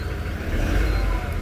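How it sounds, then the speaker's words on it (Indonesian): Diesel engine of a Toyota Innova Reborn revving as the throttle is opened in a workshop check, a steady loud low rumble that swells slightly in the middle, close by with no talk over it. "Coba kita akselerasi atau kita tambah gasnya."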